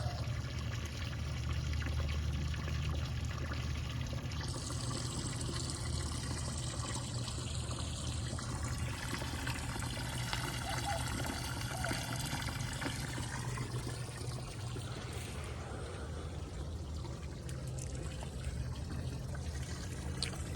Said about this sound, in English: the water sounds are always really nice